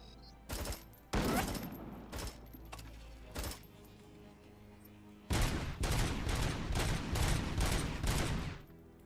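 Sniper gunfire in the RoboCop video game: a few scattered sharp cracks at first, then after a short pause a rapid string of about eight shots, loud and close.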